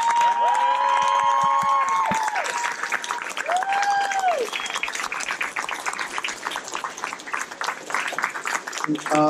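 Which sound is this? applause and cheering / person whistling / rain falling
applause and cheering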